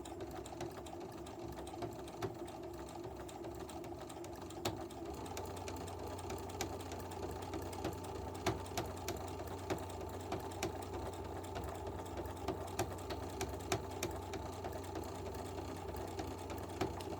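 A sewing machine stitches slowly along a marked line on a Valentine's Day project box, its close, steady mechanical whirr ticking with regular needle clicks for a long stretch, no speech.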